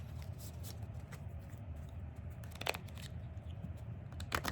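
Lenormand cards shuffled for a tarot reading, close soft riffling and flicking with crisp card snaps scattered throughout, quiet and continuous, no voices.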